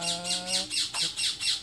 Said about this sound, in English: The birds are waking up now.